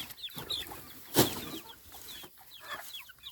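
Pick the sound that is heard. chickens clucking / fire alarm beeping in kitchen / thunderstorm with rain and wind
chickens clucking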